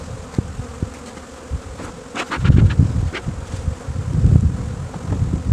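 Honey bees in an opened wintering hive buzz in a dense, droning hum close by, swelling in loudness partway through, with occasional knocks from handling and no talking.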